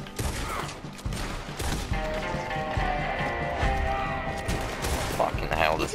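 Gunfire in the western video game Red Dead Redemption 2, repeated sharp shots and scattered volleys over a busy mix of music and clatter, with voices faintly present.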